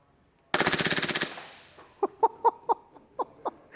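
WE Tech Glock gel blaster fired in full auto, a rapid close burst of about a dozen sharp cracks, followed by several separate clicks or pops.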